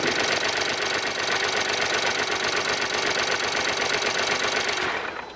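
A BMW 640i GT gasoline engine runs rough and shakes with an uneven misfiring idle, loud and close, a dense continuous mechanical drone that holds steady before trailing off at the very end.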